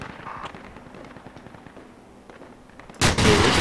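Video game gunfire in Project Reality Battlefield 2: an APC opens up with a sudden loud, sustained burst of heavy shots after a stretch of quieter, rumbling battlefield ambience.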